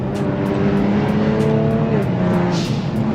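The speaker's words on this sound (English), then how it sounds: "The car is so fast and loud now." A Kia Stinger with a straight-pipe exhaust accelerates on a highway, its engine droning loud and close with rising harmonic pitch and faint periodic ticks throughout.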